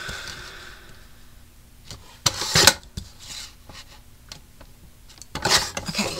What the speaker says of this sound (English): I will trim it with my small guillotine trimmer so I can see easier